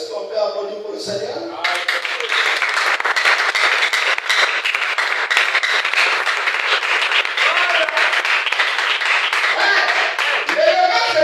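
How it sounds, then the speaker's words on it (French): A church congregation breaks into sustained, loud applause for the Lord, dense clapping that swells after a brief moment of voices at the start and continues steadily throughout. "Est-ce qu'on peut applaudir pour le Seigneur?"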